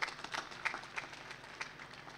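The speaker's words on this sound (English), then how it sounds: "I request that we give him a hand clap." An audience claps at a memorial service, a faint, sparse scattering of handclaps over a short stretch.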